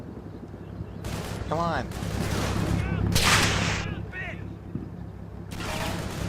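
Gunfire and explosions from the World War II strategy game Combat Mission: Battle for Normandy, at Neuville au Plain, with several sharp bursts and booming blasts over a rumbling battle backdrop while someone talks.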